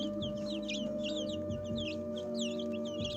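Light Brahma chicks in a coop, a busy chorus of high, chirpy peeps and soft clucks repeating close by over a steady low hum, with no talking.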